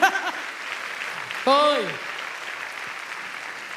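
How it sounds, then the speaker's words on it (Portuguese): A church congregation breaks into a short burst of applause after a preacher's call to clap, with brief cheering voices rising over it; the clapping is moderate and a little distant, and speech is heard before and around it. "Pode aplaudir!"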